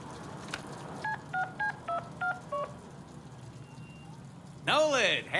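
Telephone keypad tones in the Deadpool video game: six short dialing beeps in a quick even sequence over a soft background hiss, followed by a burst of warbling electronic sound.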